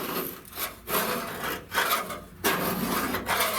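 Scraping old material and residue off the inside roof of a 1964 Buick Riviera during headliner work, a repeated rasping scrape in several long strokes with brief pauses, close and fairly loud.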